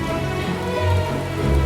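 Rain in Final Fantasy XIV falls as a continuous, even patter and wash, steady throughout under a low tonal hum of ambient game music.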